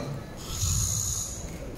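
A voice imitates snoring with a drawn-out, rasping snort, close and moderately loud, during a religious gathering.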